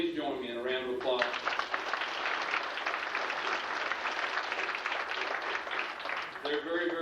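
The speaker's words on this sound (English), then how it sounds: "Please join me in a round of applause." A banquet audience gives a sustained round of applause, even steady clapping from many hands in a hall, framed by a speaker's voice just before and as it tapers off.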